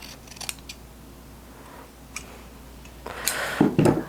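Scissors trim the fabric edge of a 15th-century Italian Renaissance gown in a few quiet snips, with a louder run of rustling cuts and fabric handling near the end, close by with no talking.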